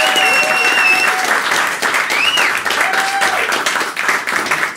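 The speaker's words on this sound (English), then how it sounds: "Give her a round of applause." At a First Monday Meet gathering, a crowd breaks into loud, sustained applause that stays full and even, with a few sharp whistles rising above the clapping before it starts to taper.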